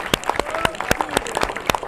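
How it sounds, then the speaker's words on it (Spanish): Audience at a church gathering clapping in a room, a sparse run of sharp, separate claps from a small group, fairly close, with a voice speaking over it. "Un aplauso a Oscar ahí, con Walter"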